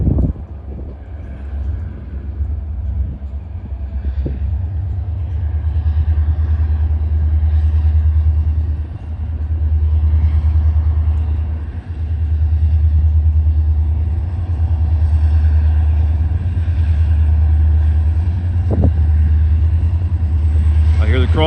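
A pair of EMD SD40-2 diesel locomotives labor up a grade hauling a heavy train, producing a loud, continuous low engine drone with gusty wind noise over it.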